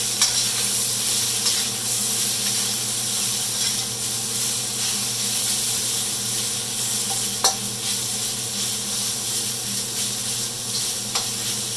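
Beef pieces for pepper steak sear in a hot pan, a constant loud broad sizzle and hiss that holds steady throughout with a few faint stirring clicks and no talk.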